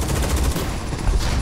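Rapid gunfire aimed at a boss in the mobile shooter Undawn, a dense, continuous barrage of overlapping shots from several weapons at once, loud and unbroken throughout.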